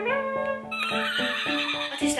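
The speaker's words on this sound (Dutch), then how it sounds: "Paard, goed zo, Luxie. Dat is het paard." A children's picture toy plays a loud electronic horse neigh with clip-clop hoofbeats, a warbling whinny over a steady trotting rhythm, close by, while people talk.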